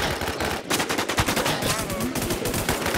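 Rapid video game gunfire, a dense continuous burst of automatic shots at steady loudness with faint voices mixed in.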